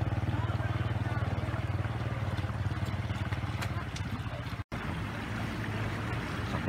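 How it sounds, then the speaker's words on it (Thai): Motorcycle ridden through floodwater with water in the exhaust on a home access road in Laos, a steady low engine drone with churning water noise throughout, briefly cutting out near the end. "ขับมอไซค์มาถูกน้ำท่วมครับน้ำเข้าท่อไอเสียแล้ว"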